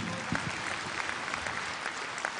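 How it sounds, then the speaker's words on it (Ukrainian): Audience applause fills a concert hall after a comic opera duet is introduced, a steady dense clatter of many hands clapping close and continuous throughout. "ваши оплески"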